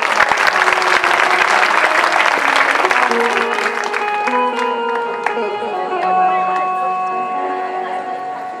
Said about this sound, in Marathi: महादेवाकरता टाळ्या वाजवायच्या.